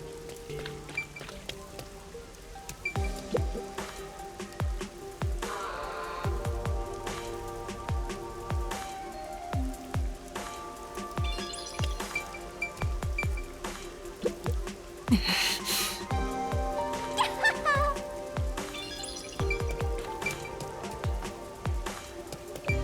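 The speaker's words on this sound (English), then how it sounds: "The music and the subtle raindrop sounds. Or should I say falling rain" Falling rain ambience in the video game Master Detective Archives: Rain Code, steady patter of drops on surfaces with scattered heavier plinks, continuous and moderately loud, layered with soft music.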